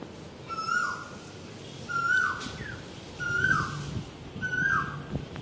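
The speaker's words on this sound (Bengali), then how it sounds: "সুন্দর কোকিল ডাকতেছে" An Asian koel calls outdoors in the morning after rain: four evenly spaced rising whistled notes, moderately distant over faint background noise.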